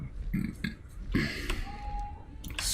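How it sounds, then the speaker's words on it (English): A single loud burp from a person mid-conversation, a broad low rumble surrounded by brief mouth noises and short bursts of sound. "Excuse me, I burped."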